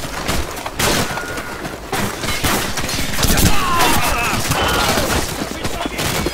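Rapid bursts of gunfire crackle and pop in a dense, chaotic exchange during a Call of Duty 4: Modern Warfare firefight, loud and close with overlapping shots and impacts.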